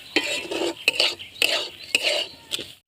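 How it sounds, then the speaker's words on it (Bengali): A pan of ingredients for dal goppa being stirred and fried, with repeated scraping strokes of a spatula against the metal roughly every half second and a light sizzle underneath, close and fairly loud. "ভালো করে ভেজে নিই"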